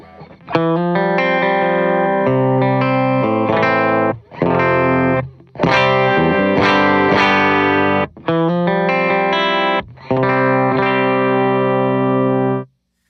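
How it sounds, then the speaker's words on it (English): A clean electric guitar through a compressor and a Supro-style preamp pedal (Preston Pedals Mason) plays chords and arpeggiated phrases with even, compressed sustain, pausing briefly between passages, close and steady with no voices. "this is what clean tone sounds like with my compressor on"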